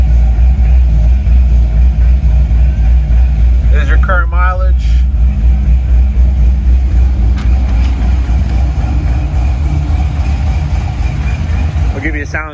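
A supercharged 2008 Corvette C6 with long-tube headers idles loudly with a deep, steady rumble close by, while someone talks briefly over it.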